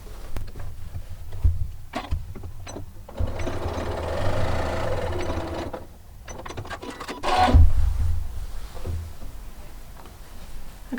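A sewing machine stitches a seam joining fabric hexagons for a table topper, with a steady mechanical whirr that starts and stops in bursts among small handling clicks.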